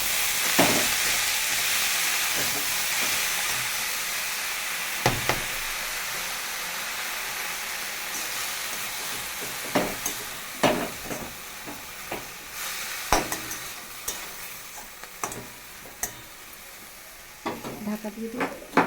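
Papaya greens frying in hot oil tempered with black cumin seeds: a steady close sizzle and hiss, broken by scattered clicks and scrapes of stirring.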